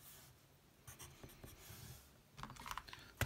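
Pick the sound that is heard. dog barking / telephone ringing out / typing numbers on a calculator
typing numbers on a calculator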